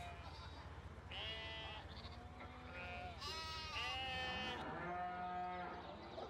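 Sheep at an animal purchase point in Farming Simulator 17, several overlapping bleats one after another over a constant background hum, clear and fairly close.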